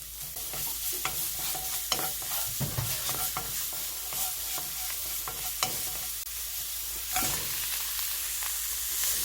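Sweet potato stems with a spoonful of garlic stir-fry in a spoonful of oil, giving a constant close sizzle with frequent scraping strokes of the utensil and a few sharper knocks against the pan. No voices.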